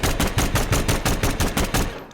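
The Concept 5 automatic pistol in Hitman 2 fires a rapid, loud burst of about fifteen evenly spaced punchy shots with no talk.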